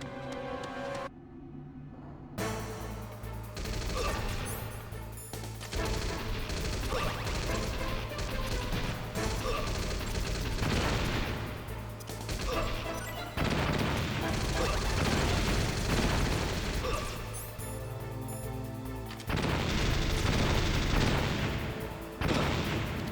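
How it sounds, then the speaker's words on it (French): Grenade blasts and crashing impacts in the Metal Gear Solid video game, loud dense bursts of booms and smashes continuing almost without break over a steady game soundtrack. "On va y aller à la grenade, 28 grenades."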